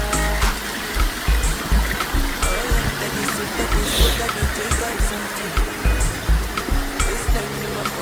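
Water flowing steadily at a spring source along a mountain route, a continuous close trickle and splash with speech faintly over it.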